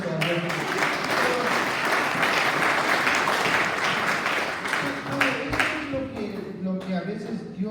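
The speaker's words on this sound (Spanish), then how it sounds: "un fuerte aplauso a Dios" A church congregation gives a loud, sustained round of applause for God, dense clapping that fills the room for several seconds while voices call out over it.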